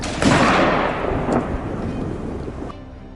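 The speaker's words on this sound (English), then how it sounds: "a gunshot suddenly rang out from a teammate" A single rifle gunshot cracks out during a wild boar hunt on a farm, loud and sharp, followed by a long rolling echo that fades over about two seconds.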